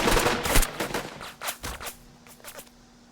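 Machine gun fire in the video game Burden of Command: several rapid, loud bursts of shots that thin out into scattered distant reports, with no talking.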